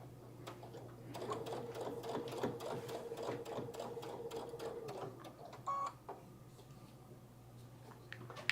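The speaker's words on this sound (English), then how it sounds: "I just stitch along the edge, maybe a stitch away from the edge." Sewing machine stitching along the edge of fabric, with a rapid, even mechanical whir and ticking that runs for several seconds before stopping, followed by a few soft clicks close by.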